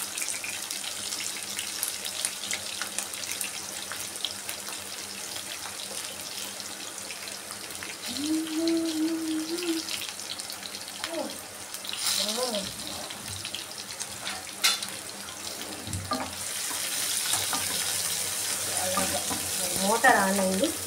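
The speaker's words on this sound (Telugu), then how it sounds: "మోటార్ ఆన్ అయింది, ఆఫ్ చేసేద్దాం మనం. వాటర్ది సౌండ్ వస్తూ ఉంటుంది అన్నమాట." Water running steadily from a motor pump, a continuous nearby rushing flow lasting throughout, with a person talking intermittently over it and kitchen clatter toward the end.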